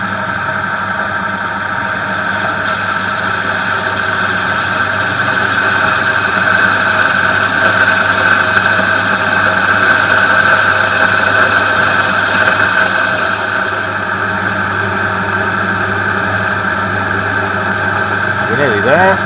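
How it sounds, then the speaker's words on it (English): A lathe parts off a steel workpiece: a steady, loud motor hum with a sustained cutting tone runs unbroken, easing slightly near the end. "Parting off steel is a little bit more difficult."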